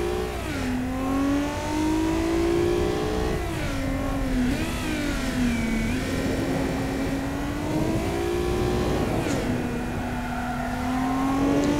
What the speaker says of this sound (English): Here, the tire's all squealing away.